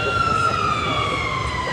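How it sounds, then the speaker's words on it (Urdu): A siren wails steadily and loudly throughout, a sustained gliding tone that slowly drifts downward with no break, heard during a religious speech. "بجنے لگا سائرن"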